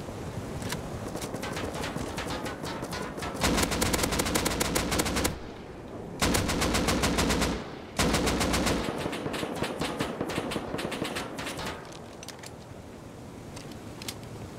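Rapid automatic gunfire in the survival video game Rust, dense sustained bursts with brief pauses, loud and close, with no talking.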